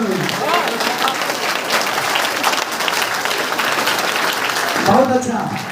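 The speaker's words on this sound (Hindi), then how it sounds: "जो जितना कस से ताली बजाएगा उसको जल्दी जल्दी पैसा आता है" A crowd at a village meeting in Basti claps hard and steadily, dense continuous applause at close range with a voice briefly heard near the end.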